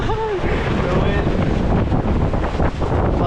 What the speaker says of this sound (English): One bad gust of wind is all it took.